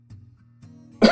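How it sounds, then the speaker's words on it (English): A single short cough at the very end, close and fairly loud, after a quiet low hum and a couple of faint throat sounds. "Excuse me, I'm going to cough."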